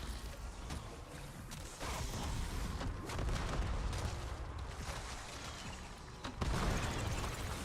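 Underbarrel grenades burst repeatedly in a combat video game, with dense, loud booms and rumbling blasts overlapping in a constant roar of battle noise.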